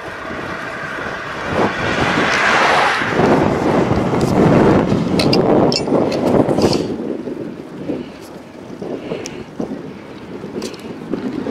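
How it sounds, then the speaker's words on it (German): Wind buffets the microphone during a morning bike ride toward the Müggelberge near Berlin: a loud, continuous broadband roar with gusts that swell and ease, with no talking. "Mann, Mann, der Wind."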